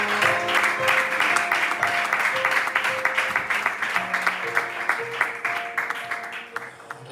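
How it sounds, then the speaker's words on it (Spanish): Church congregation applauds during a sermon, with rapid clapping that holds steady under faint sustained music tones before thinning out near the end. "Damos un aplauso a la palabra de Dios."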